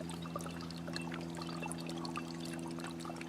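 A small pump recirculates water in an upcycled bird bath, giving a steady faint trickle and splash over a constant low motor hum.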